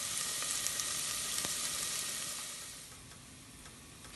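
Onions cooking down in a pan for a spaghetti and turkey meatball sauce, giving a faint, steady broadband sizzle that eases slightly toward the end, with a few small ticks and no voices.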